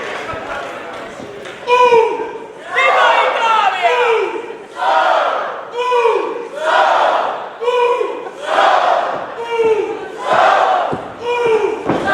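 A wrestling crowd at an APW Bay Area Bash show chants loudly in steady rhythmic waves, roughly one surge per second, with cheering mixed in throughout.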